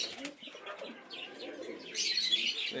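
Pigeons in a pigeon loft give soft coos and chirps with brief wing flutters, close by, growing louder and busier toward the end.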